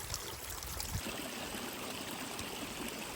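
A small mountain stream trickles steadily, a faint, continuous wash of water with no voices.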